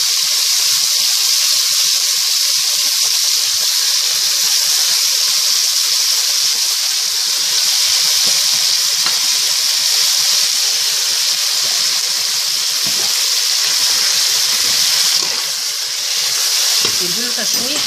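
Seafood soup ingredients sizzle and sauté in a pot with spices, a steady loud frying hiss running throughout with faint stirring underneath.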